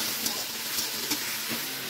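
A potato fries in a hot pan for bhujia, a dense, constant sizzle close by with faint stirring scrapes.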